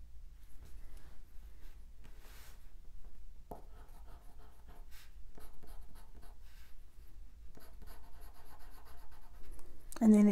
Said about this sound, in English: This is a colored pencil in black.